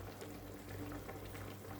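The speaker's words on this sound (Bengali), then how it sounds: "ঝোলটা ভালো করে ফুটে আসুক" Gravy (jhol) boiling in a cooking pot, a faint steady bubbling simmer with soft low hiss, continuous and close, no voices.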